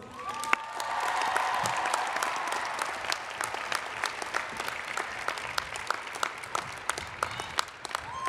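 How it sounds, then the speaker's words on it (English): A large outdoor commencement crowd at Camp Randall stadium applauds in a steady, distant patter of clapping with scattered cheers and whoops, fading slightly toward the end. "let's give ourselves a round of applause"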